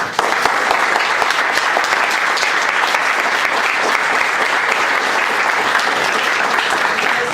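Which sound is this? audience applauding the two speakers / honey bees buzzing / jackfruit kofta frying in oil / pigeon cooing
audience applauding the two speakers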